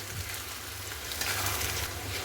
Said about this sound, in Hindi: अब हम इसे तेल में डाल देंगे। उसके बाद इसे चलाते हुए हम गोल्डन ब्राउन होने तक हम इसे भून लेंगे।